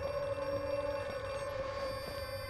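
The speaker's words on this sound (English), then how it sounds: "I gotta answer that phone" A telephone rings in the horror video game Outlast 2, a steady, faint electronic tone that holds without a break against a low ambient drone, with no voices.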